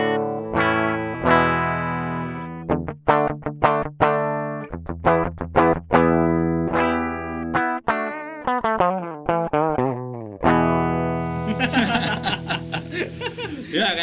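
An electric guitar runs through a Steinberg UR816C audio interface with a distorted tone, playing sustained chords and choppy staccato stabs, ending in a noisy scratchy burst, close and loud with no talking.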